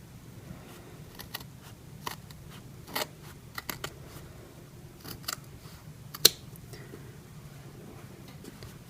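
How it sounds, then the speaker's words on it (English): Scissors trimming the material of a beaded slipper top, a few faint, irregular snips and small clicks scattered over a low steady background hum, close and quiet, with no talking. "I'm just going to trim it just a little bit"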